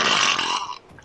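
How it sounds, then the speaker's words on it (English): A young man forces out a single loud, rough burp on command, a short raspy belch close to the mic that cuts off after under a second. "I can burp on command, dude"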